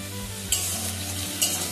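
Onions fry in oil in a pan for Bengali fish kalia, a steady close sizzle with two brief clinks of a spoon stirring.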